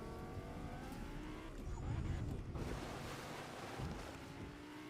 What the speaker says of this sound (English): Right, let's get in the fast car.